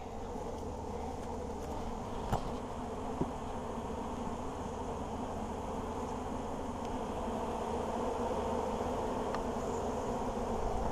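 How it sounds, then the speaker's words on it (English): Steady, dense buzzing of many honey bees around a hive during an inspection, close and continuous throughout with no voices. "it looks like we've got a lot of bees here"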